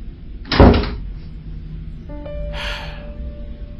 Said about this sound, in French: Ferme la porte quand tu sortiras.